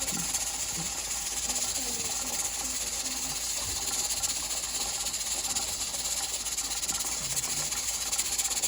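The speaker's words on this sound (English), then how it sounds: "you can hear the water in there boiling really hard" Water boils hard in a canner with a steady rushing hiss and faint bubbling, continuous and close, at a rolling boil.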